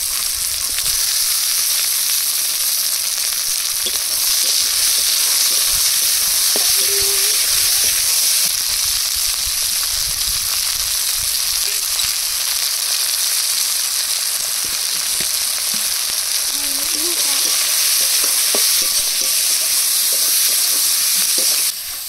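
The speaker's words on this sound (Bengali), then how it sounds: "পেঁয়াজ রসুন লঙ্কা ভাজা হয়ে গেছে, পেঁয়াজগুলো লাল হয়ে গেছে" Onion, garlic and green chili fry in a pan for a spicy village fish curry, giving a steady, loud sizzle and hiss with occasional stirring scrapes throughout.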